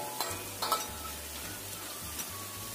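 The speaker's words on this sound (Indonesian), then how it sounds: "Goreng sampai coklat keemasan." Food fries in hot oil until golden brown and is turned over now and then, giving a steady, soft sizzle with a few light clinks of a utensil against the pan.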